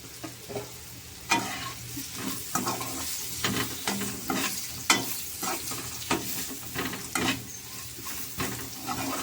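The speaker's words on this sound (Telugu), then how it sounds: "కరివేపాకు కూడా వేగిపోతే ఇంకా ఆపేసుకోవడం స్టవ్" Curry leaves sizzle and crackle in a hot pan with bitter gourd and dried fish, stirred steadily with a spatula scraping and clacking against the metal. The sizzling stays close and continuous, with no talking.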